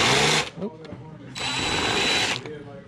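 A small power tool backs small screws out of a Ford Mustang lens, giving two loud whirring bursts separated by a short pause, with a voice talking over them.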